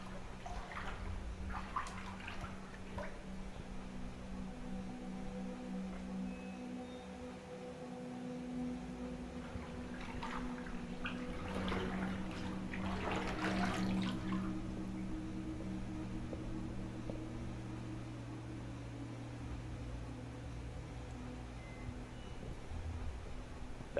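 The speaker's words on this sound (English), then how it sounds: "I'm just sledging through this water right here" Sloshing and splashing of a character wading through water in the found-footage horror game The Complex, steady and moderately close with a brief louder burst of splashes midway, no talk.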